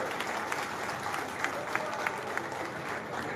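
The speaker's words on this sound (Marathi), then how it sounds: "आपल्या सर्वांना विनंती की आपण सर्वांनी हात उंच करून टाळ्या करून त्यांचं या पक्षामध्ये" Crowd at a party induction event clapping together in a steady, dense patter of applause, moderately distant, with a few sharper claps standing out and voices murmuring underneath.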